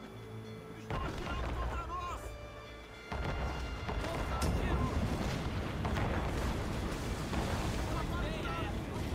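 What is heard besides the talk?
ship cannon fire in video game Assassin's Creed Rogue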